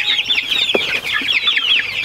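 Young chicks in a farm building with deep bedding give continuous high, rapid peeping and soft clucking, many birds close together, with one brief low scratch or thump partway through and no talk.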